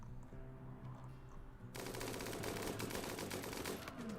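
Gunfire in the video game RimWorld, a dense sustained burst of rapid shots that starts abruptly and keeps going, loud and continuous with no talk.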